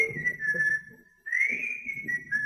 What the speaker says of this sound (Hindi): हमारा कमीना सीटी बजाता हुआ